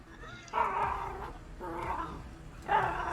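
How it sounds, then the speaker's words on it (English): A frightened dog whimpers and gives short yelping barks indoors during a thunderstorm. There are three close, loud bursts, each around half a second to a second long, separated by brief pauses. "Sorry, my dog is freaking out."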